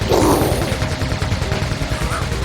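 Turret gunfire in the Ratchet & Clank video game makes a loud, rapid rattle of repeated shots, with a brighter burst at the start, running under faint background talk.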